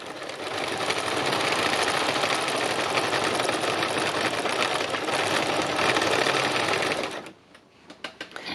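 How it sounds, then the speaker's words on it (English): Sewing machine stitching free machine embroidery, a fast steady mechanical chatter running close and continuous for about seven seconds before stopping, followed by a few light clicks. "I love having a big amount of free machine embroidery to do in lots of different colours."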